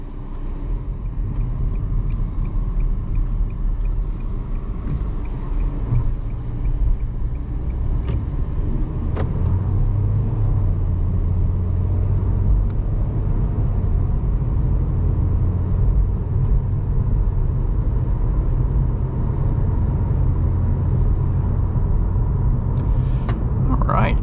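Cabin sound from inside a 2024 Nissan Versa SR with a CVT, driving on the road: a steady low engine and road rumble that holds throughout, with some faint clicks.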